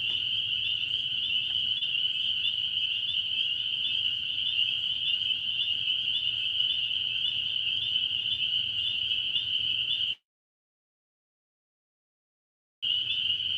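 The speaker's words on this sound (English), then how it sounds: "Are the peepers getting loud?" Spring peeper frogs calling loudly at night from a front porch, a dense, steady high-pitched chorus that runs unbroken for about ten seconds, cuts out briefly, then resumes.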